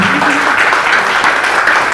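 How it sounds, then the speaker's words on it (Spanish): Conference audience applauding after a lecture at a university, loud, dense and sustained clapping filling the room from start to finish. "Reiteramos el aplauso entonces por esta exposición de la doctora Masuri"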